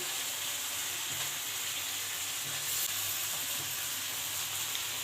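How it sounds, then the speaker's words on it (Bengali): Cut boiled eggs fry in a pan for egg curry, giving a loud, even hiss of sizzling oil that holds steady for the whole stretch, close up with no talking. "এবারে এই যে কেটে রাখা ডিমগুলো দিয়ে দিলাম ভেজে"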